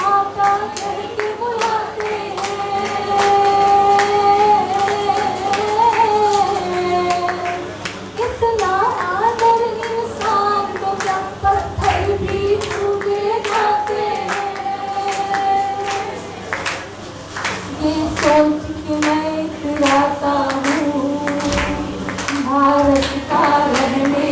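An audience claps steadily through a live Hindi patriotic song performance, rhythmic applause sustained under sung voice and instruments for the whole stretch.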